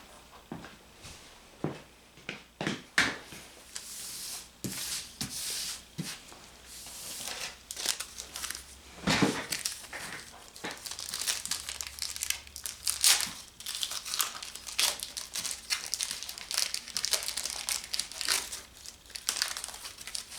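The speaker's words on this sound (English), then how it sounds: "open the cards at the same time" Desert Storm trading card packs being torn open by hand, close crinkling and crackling of the wrappers in irregular bursts, with sharp tearing bits and rustling of the cards throughout.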